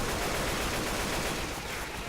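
Gunfire in the zombie shooter Left 4 Dead 2, a dense, loud burst of rapid shots that blurs into continuous broadband noise, close up and without speech.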